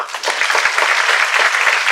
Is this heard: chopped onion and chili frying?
no